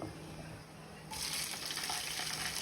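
Onion sizzling in hot oil in a pan for Andhra-style pappu charu, quiet at first, then a louder, dense crackling sizzle that bursts in about a second in and continues steadily, close and without talk.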